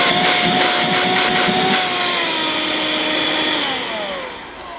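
A Vorwerk Kobold VC100 handheld vacuum cleaner on boost runs with a loud, steady, high whine. It holds for several seconds, then starts to wind down and fade near the end.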